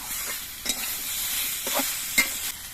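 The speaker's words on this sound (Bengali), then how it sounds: "আর টমেটো এবার সব কিছু দিয়ে আবার কিছুক্ষণ কষিয়ে নেবো" Spices and tomato sautéed in a pan for a vegetable katla fish dish make a steady close sizzle, with a few quick scraping stirs of a spatula against the pan.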